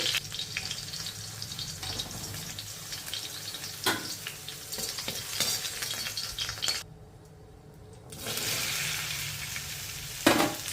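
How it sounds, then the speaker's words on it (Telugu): Okra pieces frying in oil: a continuous, close sizzle with occasional stirring scrapes, dropping away briefly to near quiet for a moment before the bubbling hiss returns strongly, with a sharp clatter near the end. "ఆ మిగిలిన బెండకాయ ముక్కలను కూడా ఫ్రై చేసేసుకోవాలి"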